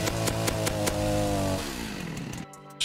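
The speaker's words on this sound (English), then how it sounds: "I'm gonna kill him with a chainsaw" A chainsaw revs in a video game, loud and close, with rapid rhythmic pulses of the engine that slow and wind down before cutting off near the end.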